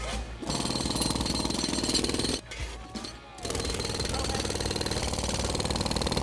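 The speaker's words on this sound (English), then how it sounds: "You got to use the jackhammer tonight, right?" A jackhammer breaks up bridge deck concrete during night repair work, loud and close with rapid continuous hammering, a brief pause midway, then more hammering.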